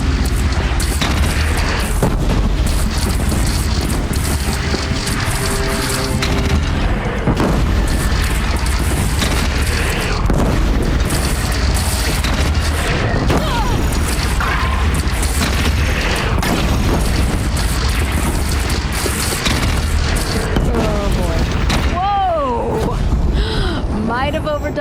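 A bridge shot down and collapsing in Horizon Zero Dawn: heavy booming crashes and rumbling debris fill the scene loudly and continuously, with voices talking over the destruction.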